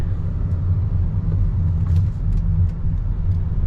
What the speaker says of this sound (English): you can hear vibration from underneath, from the steering column area